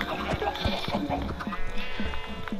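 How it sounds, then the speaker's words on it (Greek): Sheep bleat in a farming video game alongside chickens and cattle, with short bleats and light clip-clop hoof taps mixed with game sounds, while someone talks over them. "ήταν τόσο πολλά τα πρόβατα και κότες"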